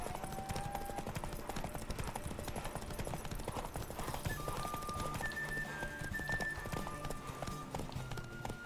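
Rapid hoofbeats of a galloping horse in The Witcher 3, steady and continuous, with game-style ambient noise and brief tonal chimes layered over them.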